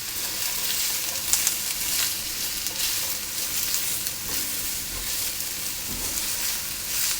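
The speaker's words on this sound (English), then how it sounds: "carrots and the onions in about 2 tablespoons of my olive oil. And I'll just give them a stir around" Carrots and onions frying in about two tablespoons of olive oil, a loud, steady close sizzle with a few soft stirring scrapes of a spoon in the pan, no voices.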